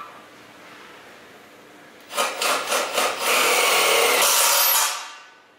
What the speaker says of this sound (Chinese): 先使用充电式电动工具专攻5支